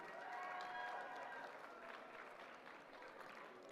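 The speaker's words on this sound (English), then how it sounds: "Big round of applause for Nasheen Sleuth." Applause from a pow wow audience fills the space at moderate volume, steady clapping that fades slightly over a few seconds, with a faint voice or tone drifting over it.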